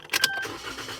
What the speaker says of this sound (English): Now I'm going to go ahead and turn the car on.